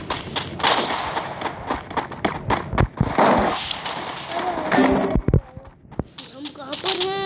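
Explosive blasts and bangs in the Free Fire video game come in an irregular string of sharp cracks and booms with other game sounds, while a voice talks over the action.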